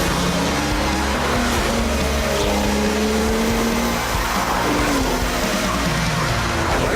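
A Porsche 911 GT2 with a twin-turbocharged 3.6 litre six-cylinder engine roars continuously and loudly, its pitch rising and falling through gear changes as the car drives at speed.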